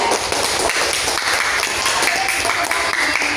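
Steady applause from a group fills the whole stretch, a dense even patter of clapping hands at moderate loudness.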